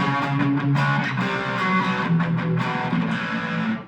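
Crunchy overdriven electric guitar chords strummed on a Telecaster-style guitar in a steady rhythm, mildly distorted and fairly loud, with no voices.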